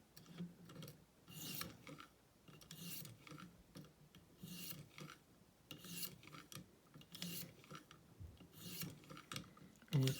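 A Cruwear steel knife edge is polished with lapping films on a ViperSharp sharpener, heard as repeated soft rasping strokes in a steady back-and-forth rhythm, close and quiet with no talk.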